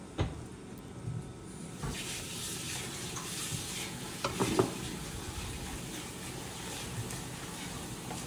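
Onion and garlic fry in a pan for a Sylheti dried-fish shira, a steady close sizzle with scraping stirs and a few louder clatters of the spoon against the pan.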